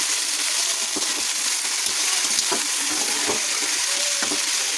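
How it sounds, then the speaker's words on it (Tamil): Crab sautéing in a hot pan, a loud, continuous hiss and crackle of frying, close up, with a few faint scrapes of stirring and no talking. "நண்டு போட்டு நல்லா வதக்கணும்."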